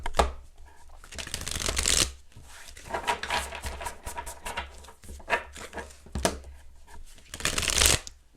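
Tarot cards are shuffled up close in loud riffling bursts, with softer shuffling and tapping between them and a final burst at the end.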